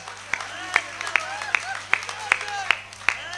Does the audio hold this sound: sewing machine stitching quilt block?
no